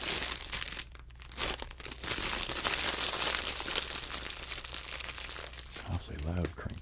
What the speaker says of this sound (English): Awfully loud crinkle.